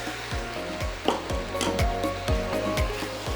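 Beef and broccoli with sauce stirred in a hot pan, a steady sizzle under repeated scraping stirs, each stroke a short low thud, close and fairly loud with no talking.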